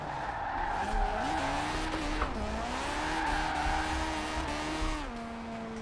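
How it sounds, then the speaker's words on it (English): Forza Horizon 4 car with a rotary engine drifting through a drift zone, tires squealing steadily over a loud, continuous engine note that rises and falls as the slide is held, with no speech. "A little left foot brake action to keep that drift."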